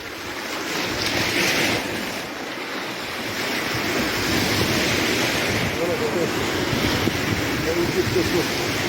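Rough, churning sea with waves surging and breaking continuously, loud and close, mixed with wind rush against the microphone, heard from a fishing boat or shore.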